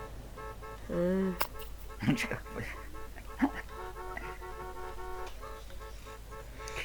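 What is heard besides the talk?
car horn honking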